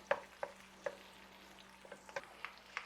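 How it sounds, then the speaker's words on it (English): Tomato paste frying in a pan gives a soft, steady sizzle, broken by a few sharp clicks of a utensil stirring against the pan. "Add a scoop of tomato paste. Of course, fry it up."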